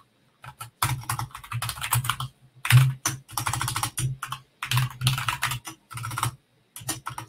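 Bursts of typing on a computer keyboard during a live Kubernetes cluster demo, with rapid clustered keystrokes separated by short pauses, fairly close and alone without talk.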